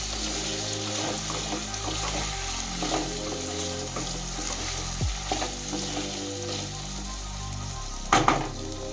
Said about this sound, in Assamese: সেইখিনিও ভালকৈ ঢাকি ৰাখি ভাজি থাকিব লাগিব।